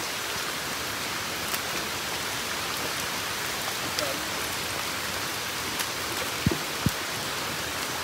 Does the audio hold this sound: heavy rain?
yes